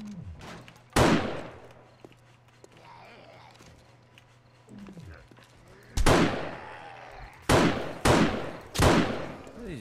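Gunfire in the zombie survival game 7 Days to Die: a sharp shot near one second, then a burst of four heavy shots from six to ten seconds, loud and close, with quieter shuffling and a low hum between.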